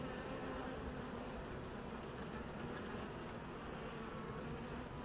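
A steady, dense buzzing of many honeybees near the hive fills the air, constant and close, with no voices.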